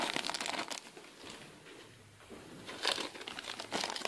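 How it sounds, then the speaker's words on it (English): Strips of tape are peeled off a 1/35 Trumpeter M1131 Stryker model kit sheet, giving close crinkling and tearing rustles in two bursts with a quieter gap between. "There's strips of tape that you peel off."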